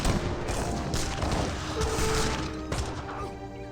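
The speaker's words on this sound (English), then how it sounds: "forest prowlers receive a volley from organ guns" A volley from organ guns in Age of Empires 3, a dense burst of overlapping gunfire and crashing impacts that holds loud and steady for a few seconds amid battle noise, without anyone talking.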